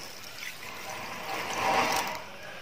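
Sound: pouring a cup of water into a bowl

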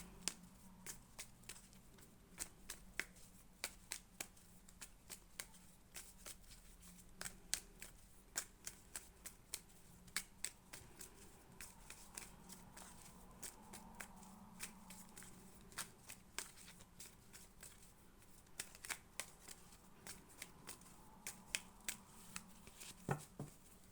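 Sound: shuffling cards

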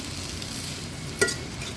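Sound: stirring green vegetable into spices in a pan

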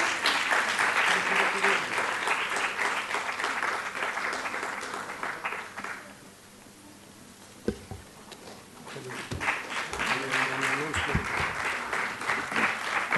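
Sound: audience applause

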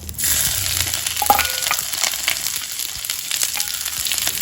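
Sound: ginger, dried chilli and bay leaf frying in oil

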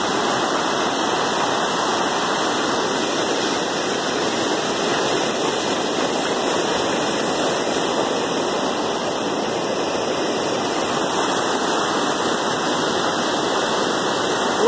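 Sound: glacier runoff stream rushing under a bridge

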